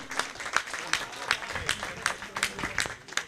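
Enthusiastic applause from a live theatre-event audience in Ahmedabad, honoring a performer; steady, fairly close hand clapping with distinct sharp claps repeating throughout, no voices over it.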